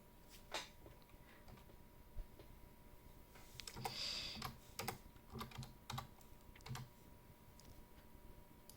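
Someone types a name on a computer keyboard during a Manjaro Linux installation, with quiet irregular key taps and a brief faster burst in the middle, close and fairly soft.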